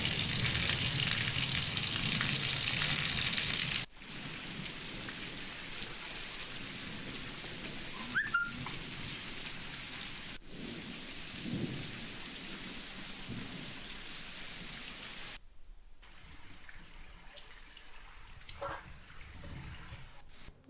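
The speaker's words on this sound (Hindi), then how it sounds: "यहाँ तेज हवाओं के साथ बारिश ने दस्तक दी, जो घंटे भर तेज तूफान के साथ झमाझम बरसती रही।" Heavy rain pours in a dense, steady roar with strong winds during a thunderstorm, broken by a few abrupt cuts and occasional rumbles, continuing loudly throughout.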